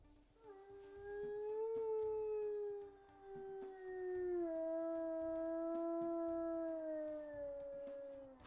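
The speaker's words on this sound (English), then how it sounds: "let's go ahead and listen to her howls as well" Wolf howls from the video game WolfQuest, two long sustained tonal howls in sequence, the first slightly deeper and the second a little higher, loud and clear with no talking.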